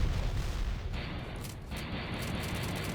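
Rocket launcher fire and explosions in the factory-building game Factorio, a dense, continuous rumble of blasts and booms throughout, with a heavy burst at the start.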